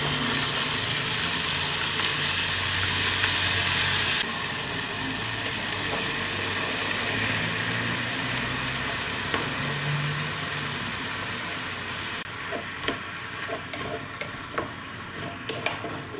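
Softened onions and added vegetables simmering in a pan over medium heat, a steady close sizzle and bubbling hiss that drops quieter partway through, with a few light clinks near the end.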